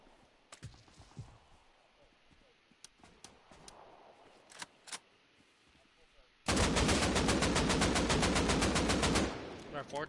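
AK rifle with a 4x scope fired in a video game, first scattered single shots under quiet background, then a loud sustained rapid-fire burst lasting about three seconds, fairly close and harsh.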